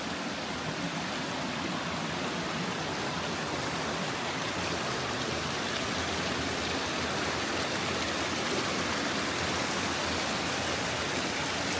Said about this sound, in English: but look at this stream